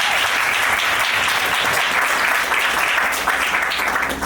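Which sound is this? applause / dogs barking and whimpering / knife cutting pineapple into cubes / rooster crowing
applause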